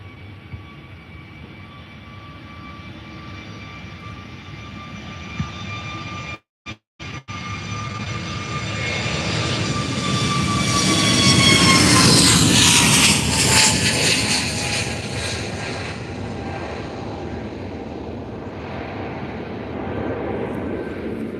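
An SAS airliner departs Faro airport, a long jet engine roar heard from outside that swells to a loud peak as it passes and then fades slowly, with steady whining tones throughout.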